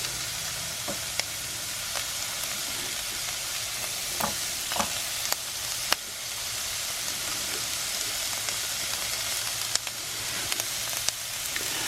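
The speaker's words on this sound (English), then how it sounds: "I'm going to let these saute for a minute before I put the cabbage in" Onion and mushroom sautéing in a pan during van life cooking, a steady close sizzle with occasional sharp clicks and taps of a utensil stirring against the pan, no talking.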